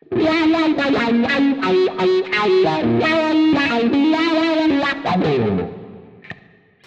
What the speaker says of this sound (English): With the wah, sounds like this.